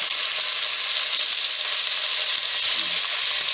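Ground beef browning in batches in a pot for chili gives a steady, loud, close sizzle that runs unbroken from start to finish, with no voices.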